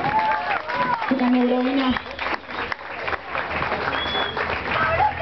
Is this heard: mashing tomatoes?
no